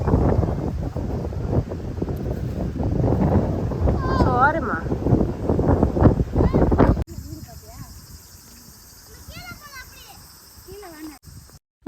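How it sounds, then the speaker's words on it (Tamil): Strong wind buffets a microphone in the open in Japan, a loud broadband roar with gusts for about seven seconds, then it drops suddenly to a quieter, thinner rush with faint chirping sounds above it. "அதை முடிச்ச வழி வந்தால் அநியாயத்துக்கு காற்று."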